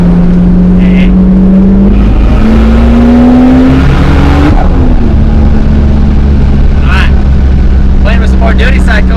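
A single-turbo 2JZ engine in a MkIV Supra revs on a dyno under boost, its pitch climbing steadily and then dropping off before it holds a high note. Loud and close, with someone speaking over it.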